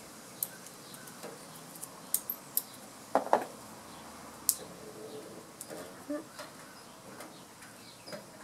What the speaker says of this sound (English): we add our third little packet with our super fancy toenail clippers